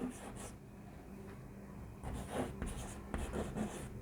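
Pen or chalk writing out notes in a study lesson, soft rubbing strokes in bursts with pauses between, close and quiet with no talking.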